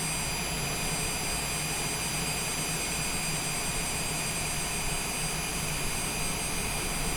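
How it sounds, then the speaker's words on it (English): Citation Longitude business jet engine spooling down in a flight simulator game, a steady broadband whine and roar with a high tonal hum, constant and loud throughout with no voices. "Just waiting for the engine to shut down."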